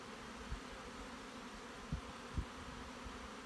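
Honey bees buzz faintly inside a hive brood nest, a low steady hum with a few soft knocks and bumps from handling the frame, no voices.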